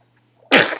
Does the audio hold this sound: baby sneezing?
yes